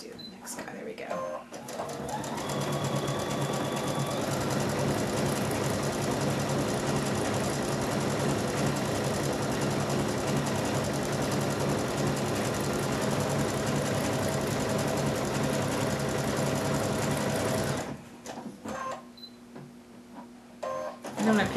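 Fitted with a winged needle, a sewing machine sews a decorative flower or star stitch in one long, steady mechanical whir lasting most of the span, then stops, leaving quieter handling sounds and a voice near the end.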